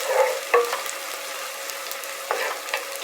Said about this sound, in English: And you want to kind of just stir that up so you really start to smell the garlic and everything coming together